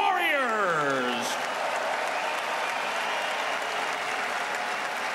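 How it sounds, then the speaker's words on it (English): An arena crowd applauding two boxers after a bout in Mannheim, a dense, steady roar of clapping filling the hall, heard after a ring announcer's voice at the start. "how about a big round of applause for these two warriors?"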